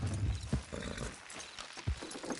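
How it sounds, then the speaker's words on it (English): Hooves clip-clop from a horse galloping in a PS4 video game, a few uneven thuds close by over a low background bed, fairly quiet overall, with no speech. "Good horse, this way!"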